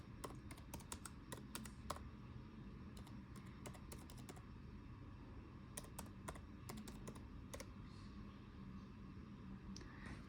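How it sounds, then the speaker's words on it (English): Computer keyboard typing, quick irregular clusters of soft key clicks with brief pauses, quiet and close with no voices. "Let me just type it in."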